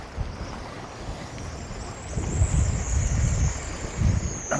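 Chilly wind blowing across an open outdoor spot, rough buffeting gusts on the microphone that swell and fade, loud and close, with a faint high whine running through, no talk.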